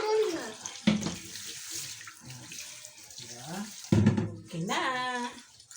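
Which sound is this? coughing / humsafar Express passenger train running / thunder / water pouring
water pouring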